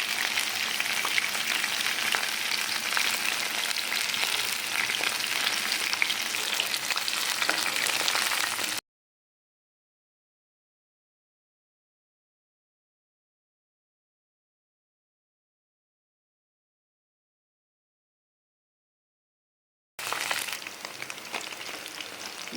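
Soya chunks deep frying in hot oil for soya 65 over a medium flame, a dense steady bubbling sizzle close by that cuts out to total silence for about eleven seconds before resuming.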